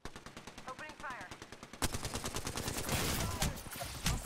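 Rapid automatic gunfire in Apex Legends, bursts of sharp shots rattling close, growing denser and louder in the second half with a game voice briefly underneath.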